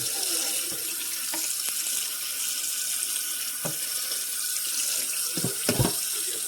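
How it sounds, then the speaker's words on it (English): Tap water runs steadily into a kitchen sink while canned peas are rinsed, a close continuous splashing rush with a few soft knocks and clatters near the end. "Here are the peas, and I'm rinsing them."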